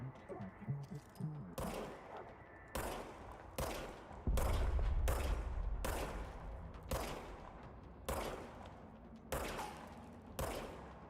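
Repeated gunshots from a gun in a video game, about ten sharp cracks at a steady, roughly one-per-second rhythm over a continuous low rumble, loud and close.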